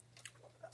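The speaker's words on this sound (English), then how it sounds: "I am a big ice chewer, and ice chewing is not good for the old tootharoonie." Ice being chewed and crunched, a few short close crunching bites in quick succession, the last one louder, over a low steady hum.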